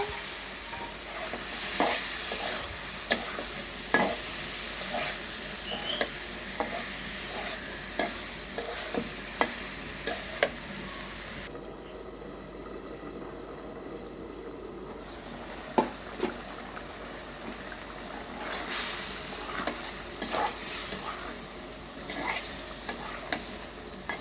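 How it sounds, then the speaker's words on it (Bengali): Stingray catfish sizzles in spices in a pot on a clay stove, giving a steady frying hiss broken by regular scraping stir strokes, close and moderately quiet, with no voices. "মশলা কষানো হয়ে গেছে, এবার মাছটা দিয়ে দেব।"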